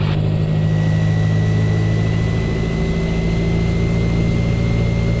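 A light aircraft engine at 1,700 RPM during a pre-flight run-up, giving a loud, steady, continuous drone with a strong low hum that stays constant throughout, with no talk over it.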